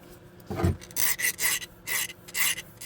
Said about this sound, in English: So just go ahead and file off these rough pieces.